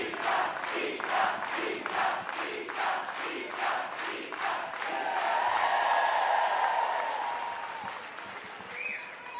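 A softball stadium crowd at a college game between Florida State and Auburn cheers and claps steadily for a curtain call, rhythmic chanting bursts giving way to a sustained, swelling roar of applause and shouts, loud and continuous.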